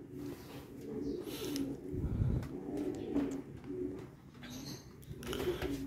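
Racing pigeons, including a hen, cooing softly in a loft, low repeated coos in a quiet rhythm against faint background noise.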